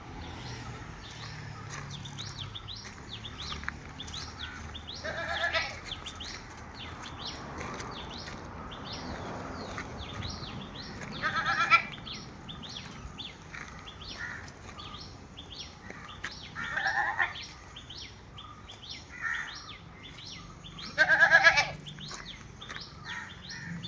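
Goats bleat intermittently, a few louder calls standing out, with birds chirping steadily in the background and occasional rustling outdoors.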